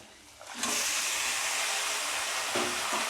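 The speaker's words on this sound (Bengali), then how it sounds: "এখন এর মধ্যে আমি এই মাংসটাকে ঢেলে দেবো" Desi chicken meat tipped into a pan of hot, fried spice paste with chilli, setting off a loud, steady sizzle that surges up abruptly and holds as a broad continuous hiss, with brief spatters near the end.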